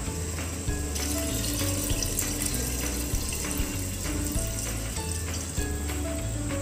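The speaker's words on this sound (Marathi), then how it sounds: "2 कप तांदळासाठी 3 कप मी इथे पाणी घेतलेलं आहे" Water poured into a pot of rice for chicken biryani gushes in a steady, loud stream that hisses against the hot pan. No one speaks.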